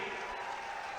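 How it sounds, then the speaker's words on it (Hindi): Audience applause at a public commemorative event in Agra, a steady dense wash of clapping from a large crowd, continuous and fairly loud throughout with no talk over it. "भाई तालियां बजाते रहिए,"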